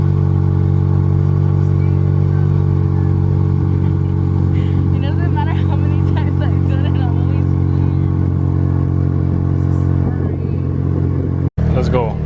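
Car engine revving with an exhaust leak, a steady loud mid-range drone with raspy harmonics running throughout, a voice talking over it and a brief sharp knock near the end.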